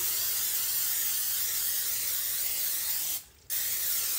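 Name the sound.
cooking spray sprayed onto a griddle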